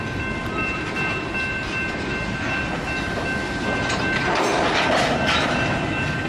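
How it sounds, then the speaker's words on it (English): BNSF freight train backing up during a switching move in Shelby, Montana: a loud, close, continuous rumble of rolling cars with steady clanking and a faint metallic squeal, no voices. "This train is now backing up."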